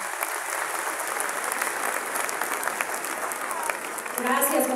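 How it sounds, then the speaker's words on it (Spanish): Graduation audience at a high school ceremony gives a strong round of applause, a continuous dense clatter of clapping that carries on for several seconds until a voice begins speaking over it at the end. "quiero pedir a todo el público un fuerte aplauso a todos los docentes que lo han hecho posible"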